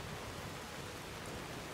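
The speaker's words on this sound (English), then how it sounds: "Stand over here out of the rain." Rain falls in a video game, a soft, even wash of noise that runs without a break, fairly faint, with no talking.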